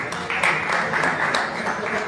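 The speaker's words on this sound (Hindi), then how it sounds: "तालियां बजती रहनी चाहिए।" An audience applauds at a public gathering, a dense wash of clapping with a few sharper claps standing out in a loose rhythm, loud and close.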